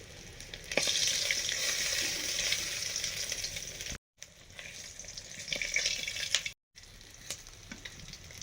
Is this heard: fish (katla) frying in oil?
yes